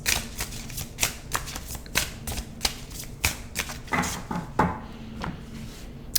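Twin flame angel numbers oracle cards being shuffled by hand, a steady run of crisp riffling snaps and slaps close by, with no voices.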